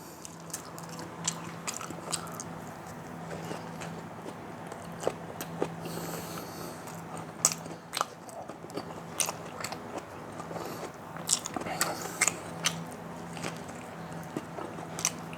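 Crunchy bites and wet chewing from someone eating a McDonald's promotional meal, close to the mic. Repeated bites land irregularly over a steady stretch of mastication.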